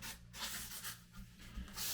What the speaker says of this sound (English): I'm just sanding the lacquer basically at this point